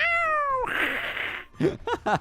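A person imitates an angry cat in a Roblox game, giving a drawn-out meow that slides into a hissing snarl, followed by short growly yowls.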